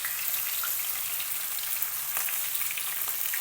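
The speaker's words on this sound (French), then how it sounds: "j'ai mis mon huile à chauffer et je vais venir faire frire mes boureks comme ceci" Algerian chicken boureks fry in hot oil with a steady, soft bubbling sizzle and light crackles, quiet and close, with no voices over it.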